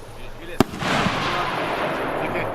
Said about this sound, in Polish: A, są nasze największe rakiety.